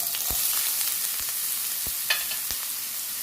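Chopped onion, ginger and garlic crackle and sizzle in hot coconut oil in a pan, a steady bright hiss broken by a few sharp pops and stirring clicks.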